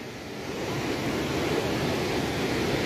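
Rough, churning sea surf at Gravatá beach in Navegantes, Santa Catarina, forms a continuous loud roar of breaking waves with no pauses or voices.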